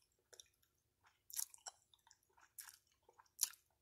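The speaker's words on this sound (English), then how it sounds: "Tell me what you think about the gum chewing." Gum chewing close to the mic, with wet, smacking chews arriving in irregular bursts and short pauses between them, no voices.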